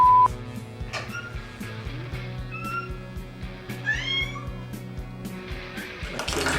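A cat meows several times with rising and falling cries, close by, over a steady background of music and faint household noise.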